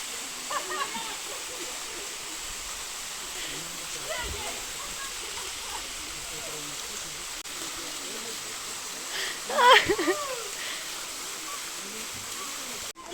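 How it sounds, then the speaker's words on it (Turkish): A waterfall in Marmaris, the lowest of a series of falls, rushes in a steady broadband roar, with voices talking over it and a brief splashy burst near the end. "Bu da ilk şelale en aşağıdaki."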